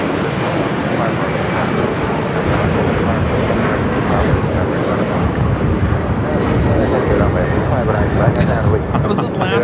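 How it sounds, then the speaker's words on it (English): An Alaska Airlines Boeing 737-900ER in Boeing 100 years livery takes off from LAX, a loud, broad, continuous engine roar that stays steady throughout, with a voice talking over it. "That was Alaska Airlines 1430 taking off to Los Cabos on the 737-900ER"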